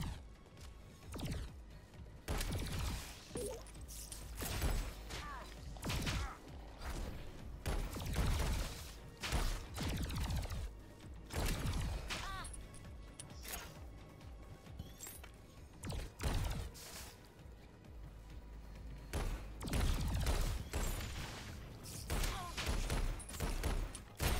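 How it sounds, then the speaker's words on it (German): Bursts of booming explosions and crashes from the video game Alienation erupt repeatedly over a constant noisy backdrop, some close and heavy, others scattered and rattling. "Da explodiert wieder einfach irgendwas."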